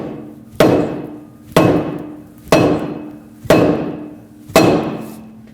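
A hammer strikes upward on the mounting nut of a Lexus IS250 front upper control arm, five sharp metallic blows at an even pace of about one per second, each ringing briefly before the next.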